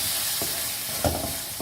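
Salt, turmeric and red chilli powder are mixed into an egg and potato masala, with a few soft, close scrapes of a spoon over a faint background hiss. Nobody talks.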